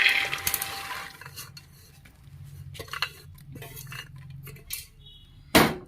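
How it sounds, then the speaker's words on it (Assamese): Soaked kidney beans for rajma tipped into a pressure cooker, with metallic clatter and scraping of utensils against the pot, a few sharp knocks and a louder clank near the end. "এইখিনি মই কুকাৰত ভৰাই লওঁ"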